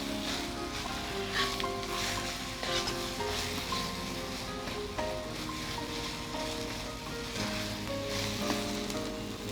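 Okra (ladies' finger) frying in a generous amount of oil, a steady close sizzle and crackle running throughout without pause, with faint stirring and scraping in the pan and no talking.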